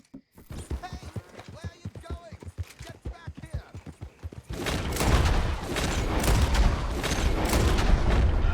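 Gunfire from the video game Red Dead Redemption 2 starts as scattered sharp shots under talk, then erupts into a loud, sustained barrage of rapid shots and booms in the second half.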